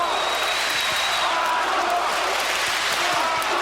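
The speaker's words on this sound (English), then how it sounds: "The crowd chanting for Arthur Abraham in the white trunks." A boxing arena crowd roars and chants during the Arthur Abraham versus Jermain Taylor fight, a dense continuous wall of crowd noise with a commentator's voice faintly over it.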